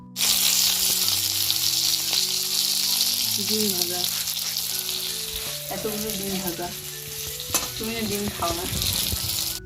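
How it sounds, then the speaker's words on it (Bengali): Eggplant sizzles and fries loudly in hot oil on a wood-fired stove, a constant crackling hiss with occasional stirring scrapes and a low tonal hum underneath. "শুধুমাত্র বেগুনটা ভাজার জন্যই আমি এই উনুনটা ধরালাম"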